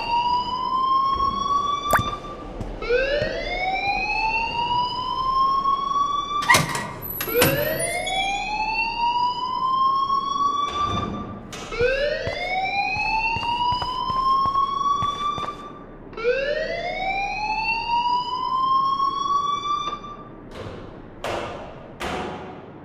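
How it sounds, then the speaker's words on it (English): A fire alarm in the game Life is Strange wails in repeated rising sweeps, loud and close, cycling continuously with a few thuds in between, and no voices. "please turn off that alarm since that's your job"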